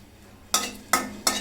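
Dried red chilies hitting hot oil in a wok for a tempering, giving three sharp, loud bursts of sizzling about half a second apart after a quiet start.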